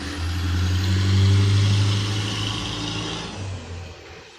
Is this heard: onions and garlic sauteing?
no